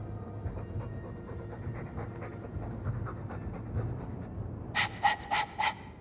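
A dog in the Dragon Age 2 video game pants in a low, steady rumble of breaths, then four loud, sharp, closely spaced huffs burst out near the end.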